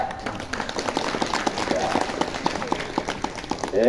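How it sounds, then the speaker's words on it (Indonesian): A crowd gathered at a Pasraman religious school event claps together, a busy patter of many hands at moderate volume with some voices and murmur mixed in. "tepuk tangan lagi sekali"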